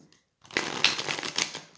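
Mystical Manga Tarot card deck being shuffled, giving a short burst of dense, rapid riffling clicks after a brief pause, close and fairly loud.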